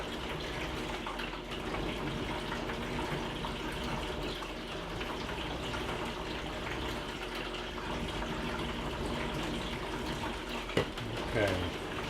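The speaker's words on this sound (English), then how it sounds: "I'm going to get my acetic acid stop bath put in" Acetic acid stop bath pours steadily into a film developing tank during C41 colour negative processing, a continuous close watery rush that runs unbroken for about twelve seconds, ending in a couple of small knocks.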